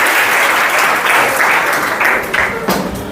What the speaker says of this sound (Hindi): इनके लिए थोड़ा ताली बजाइए आप सब लोग